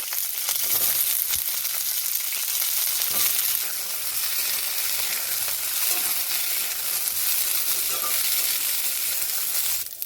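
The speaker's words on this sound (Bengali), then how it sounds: "কড়াইতে একটুখানি তেল দিয়ে নিয়েছি এবার আমি বিনসগুলোকে" Green beans fry in oil in a wok with a loud, dense, crackling sizzle that holds steady throughout, broken by light stirring scrapes.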